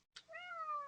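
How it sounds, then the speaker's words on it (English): A house cat gives a single close, clear meow that rises and then holds a drawn-out tone, quiet and alone. "Oh, that's a cat."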